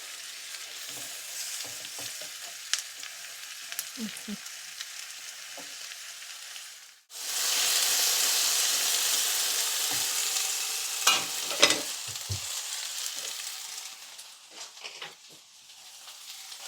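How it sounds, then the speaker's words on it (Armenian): Potatoes fry in a pan with a steady hissing sizzle that drops out briefly, then returns louder, with occasional light clicks of stirring. "Նախ կարտոֆիլը սենց տապակում եմ"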